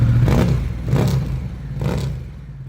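A Harley-Davidson Fat Bob motorcycle revs in three loud, close bursts, each engine swell rising and falling over a steady low rumble, with no talking.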